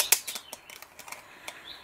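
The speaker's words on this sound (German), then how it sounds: "Die Vögel zwitschern wunderschön." Faint bird chirps drift indoors through an open door: a sharp tweet at first, then scattered soft chirps mixed with small tapping and clicking sounds nearby.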